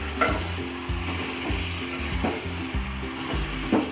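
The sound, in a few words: stirring potato biryani mixture sizzling in a pan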